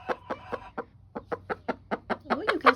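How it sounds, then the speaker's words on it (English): A backyard hen clucks in a steady series of short, soft calls, close by and fairly quiet, with a slightly louder squawk at the end. "We'll check on the chickens to see if they have any eggs for later."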